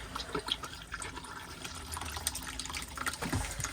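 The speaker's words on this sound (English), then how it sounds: "You get a flow of water into the bowl," Water gushes steadily into a motorhome toilet bowl in a 2025 Adria 640 SGX Supreme, a soft continuous splashing flow heard up close.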